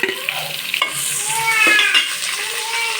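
Sliced onions are stirred as they fry in a pan, a close, loud continuous sizzle with a few scraping strokes of the spoon, heard alone without any voices.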